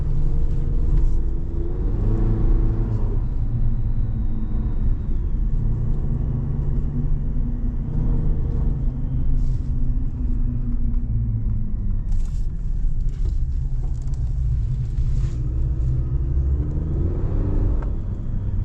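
A steady engine rumble from inside a Chevrolet Silverado pickup with a 2.7L high-output turbo four-cylinder, rising and falling slightly as it revs, continuous throughout with no talking.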